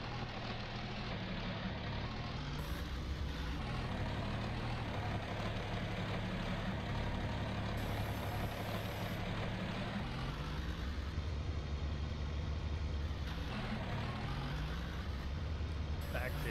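Tractor fitted with dual wheels idling in Farming Simulator 19 during round baling of a grass field, a steady low engine rumble running throughout with shifting tones, and a voice talking over it.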